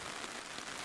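Heavy rain at an outdoor evening party makes a dense, constant hiss and patter of drops that fills the whole brief moment, with no voices.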